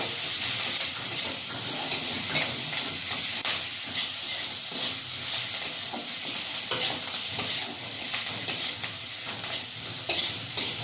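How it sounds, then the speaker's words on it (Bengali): Onions and green chillies sizzling and hissing in a little oil in a kadai with whole five-spice seeds, a steady close frying crackle with occasional stirring scrapes throughout. "পেঁয়াজটা ভাজা ভাজা করে নেব।"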